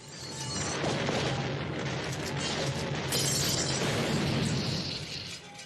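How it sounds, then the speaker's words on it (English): Explosives detonate and an alien Krites spaceship is blown apart in midair, a dense, sustained roar of blast and shattering debris rolling on for several seconds at steady high loudness, with no voices. "The explosives detonate, and the Krites ship is destroyed in midair."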